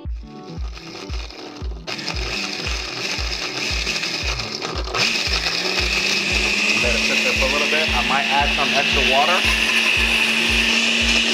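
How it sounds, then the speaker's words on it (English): Blender whirring through coconut water and herbs, a loud motor drone with a rhythmic pulsing throb that rises in pitch as it spins up, joined by a high whine later on. "Any blender is perfectly fine."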